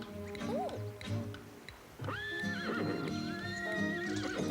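An old horse whinnies several times, the calls rising and wavering, over a steady clip-clop of hooves close by, with brief background voices.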